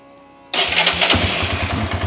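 Honda CB Verza motorcycle engine starting cold, a sharp starter burst that catches into a close, loud single-cylinder idle with an even low putter and no talk.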